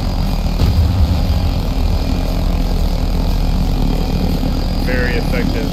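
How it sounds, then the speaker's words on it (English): A VTOL gunship in Battlefield 2042 drones overhead with a loud, steady engine and propeller roar that stays constant throughout, with a brief voice near the end. "I hope you enjoyed that little VTOL action."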